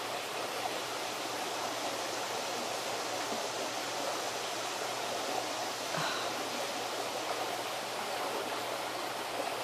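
Steady, soft rush of a creek's flowing water, a constant broadband murmur heard quietly and alone without pauses.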